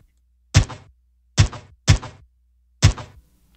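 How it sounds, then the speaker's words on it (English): A processed handgun sound effect, thickened with Waves Renaissance Bass, fires four loud, punchy shots in an uneven rhythm, each with a heavy low thump and a brief decaying tail, set against silence. "So that's our handgun"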